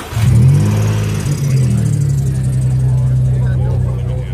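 A Ferrari engine fires up at a car meet with a loud burst, then settles into a deep, steady, rumbling idle close by, sustained throughout.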